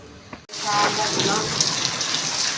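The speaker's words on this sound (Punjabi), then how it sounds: "ਲੋ ਜੀ ਆ ਗਿਆ ਮੀਂਹ ਫੁੱਲ ਤੇਜ਼" Heavy rain bursts on abruptly after a brief quiet moment at a rural home, becoming a loud, dense, continuous roar of drops hitting surfaces close by.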